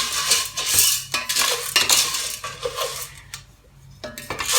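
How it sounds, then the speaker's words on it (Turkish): Metal spoon stirring popcorn kernels coated in oil and salt inside a pot, a busy stretch of scraping and clinking against the pot with brief pauses, fairly close. "Önceden qarışdırıram ki, hem yağı, hem tuzu her birisine dəysin."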